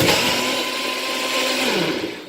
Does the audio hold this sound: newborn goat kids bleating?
no